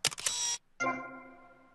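Camera shutter in GTA Vice City, a video game: a sharp mechanical click-whir burst, then after a short gap a second click trailing into a ringing electronic tone that fades out.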